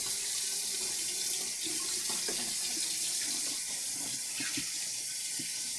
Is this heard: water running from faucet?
yes